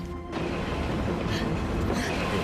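A train runs on rails with a steady, continuous rumble and faint clatter throughout, heard from inside at a moderate level with no voices.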